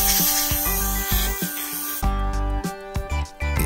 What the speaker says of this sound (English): Next, some electrical contact cleaner to clean up the commutator. Then, some more compressed air to blow out the excess of material.